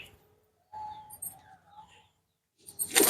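Pigeons kept outdoors on a misty morning give soft coos and chirps with short pauses between calls, ending in a louder burst of flutter or noise.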